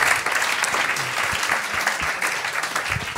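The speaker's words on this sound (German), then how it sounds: "Applaus für 2 großartige Comedians." Applause at a stand-up comedy contest, a dense, even roar of many hands clapping from the audience, sustained at steady loudness for several seconds with little talk.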